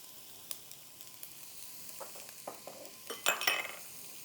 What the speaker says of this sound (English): we're going to cook our onion until just until it's softened